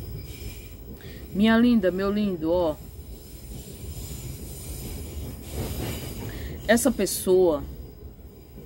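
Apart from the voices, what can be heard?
train passing by on railway line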